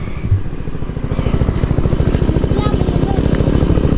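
A motorcycle engine thrums close by on a rough mountain road, its rapid, even pulsing rising in strength as it rides past, with voices faintly mixed in.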